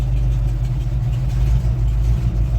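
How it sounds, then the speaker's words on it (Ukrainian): An old ZIL truck engine warming up at idle, a loud, steady low rumble with a throbbing pulse, close by and alone. "Зараз трошечки прогріємо зілка нашого і будемо пекти."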